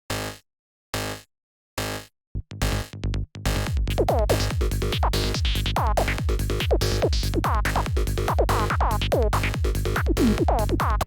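A synthesized glitchy psytrance sequence layer, processed with a compressor and OTT for punch: a few sparse stuttered hits, then a loud, dense, driving pattern of chopped pulses with squelchy sweeps and a heavy low end, no voices.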